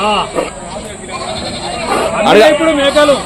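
Goats bleat repeatedly at a busy animal market in Rajarampalli, close and loud, with people talking over the calls throughout.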